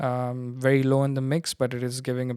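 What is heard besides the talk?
No everyday noises stand out.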